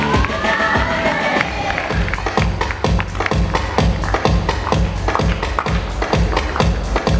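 Crowd at a Junior MasterChef India launch event cheers and shouts while rhythmic claps or beats pound steadily underneath, loud and close throughout.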